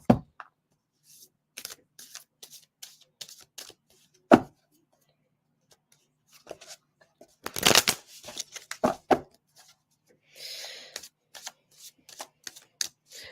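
A deck of cards shuffled by hand before one is drawn: close, crisp riffles and snaps in irregular bursts separated by near silence.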